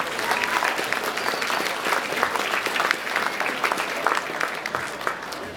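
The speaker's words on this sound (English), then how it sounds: "Let's give them a round of applause." A rally crowd applauds candidates for the North Dakota Public Service Commission with steady, dense clapping that fills the hall at an even, sustained level throughout.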